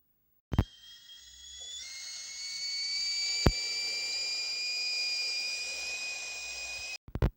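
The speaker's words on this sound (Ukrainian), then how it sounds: "Це звуки чайника на плиті." A kettle on a stove whistles with a steady high tone that rises slightly and holds, over a low hiss, framed by sharp clicks at start and end.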